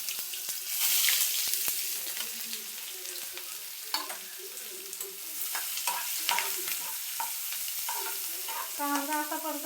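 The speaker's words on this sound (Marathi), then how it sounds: "कांदा असा परतवला छानपैकी" Finely chopped onion sautéing in hot oil for bitter gourd bhaji, a steady close sizzle with frequent spatula scrapes and stirring clinks, no talk.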